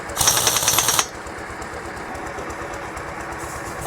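A pneumatic pressure gun tightens truck wheel bolts in a loud, close rattling burst of about a second, then gives way to a steady engine-like hum.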